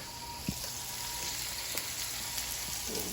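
Hamburger patties, skinny ones, fry in a pan with a continuous soft, faint sizzle and hiss, broken by a few light taps and clatters, with no talk.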